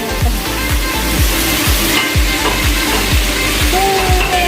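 Crab sautés in a pan with a loud, continuous sizzle, while repeated rhythmic stirring scrapes come through close by.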